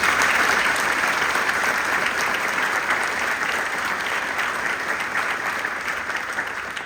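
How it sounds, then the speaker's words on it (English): An audience at a university officer commissioning ceremony applauds the future officers, a loud, dense, sustained round of clapping that fades slightly toward the end. "How about a round of applause for them?"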